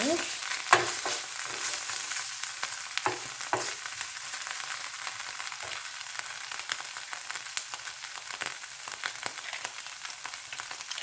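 Garlic, salt and pepper stirred in a hot frying pan, giving a steady close sizzle and crackle throughout, with occasional scraping stir sounds and no voices.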